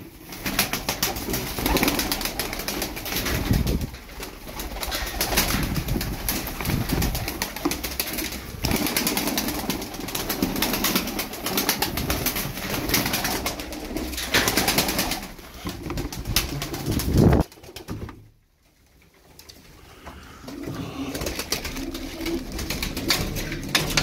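Tumbler pigeons in a loft coo steadily in a dense, continuous chorus, with occasional bursts of wing flapping and a brief lull near the end before the flock noise resumes.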